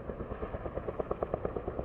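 A helicopter flying overhead near a Las Vegas construction site gives a steady rapid rotor thump at moderate distance, with no talking.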